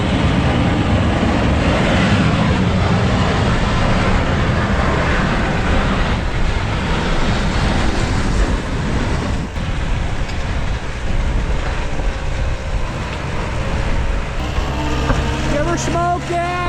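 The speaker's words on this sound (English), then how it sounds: "Dad's got the mini payloader out. He's starting to push the yard a little bit." A mini payloader with a 12-foot bucket pushes snow across a yard, its engine droning steadily with scraping rumble close by throughout, and someone talks briefly near the end.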